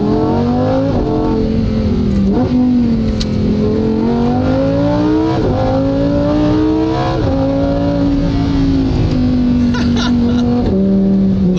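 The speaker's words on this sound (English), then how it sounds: "All right, let's drive it a little bit longer." A Lamborghini Huracan Performante drives along bendy roads, its engine loud and close throughout with rising and falling revs that climb through gear shifts and dip into sharp blips between them. A voice speaks faintly under the engine.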